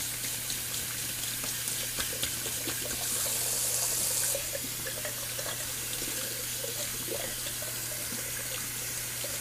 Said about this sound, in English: Sorry, gotta run the water for a sec.